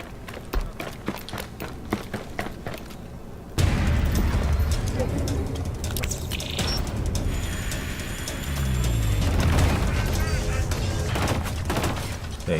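Shotgun blasts in Killzone: Shadow Fall gameplay, heavy booming shots amid dense battle noise and running, loud and continuous from about four seconds on after a quieter, rhythmic opening, with talk over parts of it.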